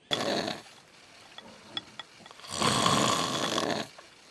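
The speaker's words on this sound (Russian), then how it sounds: "Я думаю, каждый слышал громкий храп своих родственников." Two loud human snoring breaths, each a long rasping inhale of about a second, separated by a quieter pause with faint clicks.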